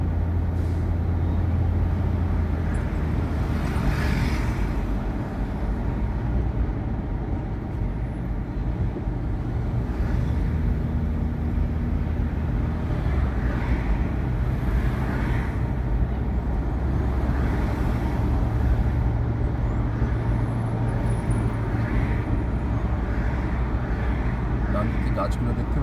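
Busy traffic on Addis Ababa Avenue in central Lusaka makes a continuous dense roar of cars, buses and trucks, with passing engines and occasional hissing brakes, loud and unbroken throughout.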